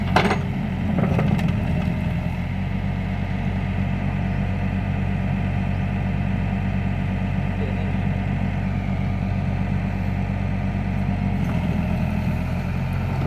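A Hyundai 55-7 excavator's diesel engine idles steadily at close range, a constant low rumble that holds evenly throughout, with a brief knock at the start.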